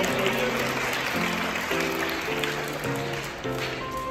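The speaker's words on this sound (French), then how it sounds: "Ah, applaudissez, bravo mon papa" Children clapping in a church during a Christmas children's mass, a steady faint patter of applause from a room-filling group, under sustained organ or keyboard chords.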